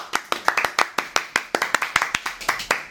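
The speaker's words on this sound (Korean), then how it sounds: "자, 박수!" A small studio audience claps to welcome a returning guest onto a talk show, with a quick, steady run of sharp, close hand claps that continues evenly throughout.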